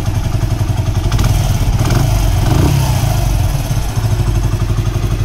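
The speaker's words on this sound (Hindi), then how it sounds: "पूरा न्यू बाइक के जैसा साउंड आ रहा है अच्छे से" A TVS iSmart 110 motorcycle engine runs steadily up close after a timing chain repair, a loud, even thrumming idle with a slight rise in revs partway through.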